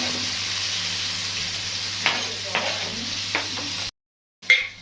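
Onions frying in a pan, a dense steady sizzle with a few clattering stirs, close and fairly loud, cutting out briefly before a final scrape.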